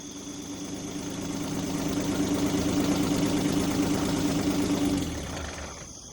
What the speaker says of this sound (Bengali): আর তারপরেই শুনতে পেল কানোরিয়ার গাড়ির শব্দ